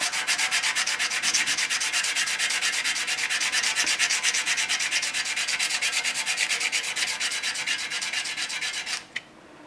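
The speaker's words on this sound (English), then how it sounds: "we'll start sanding." A bone guitar nut blank rubbed flat against sandpaper on a flat surface, a loud, close, rapid back-and-forth rasping that holds steady for several seconds before stopping.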